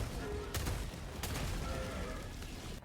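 VG-70 Variable firing in Helldivers 2, two sharp gunshot cracks about half a second apart over a dense, noisy game background of rumble and effects.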